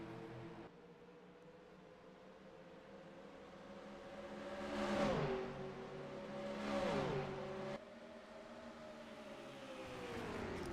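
Race cars pit in the NR2003 racing video game, a steady engine drone with two cars passing close by and fading, their pitch dropping as they go, while the background hum continues.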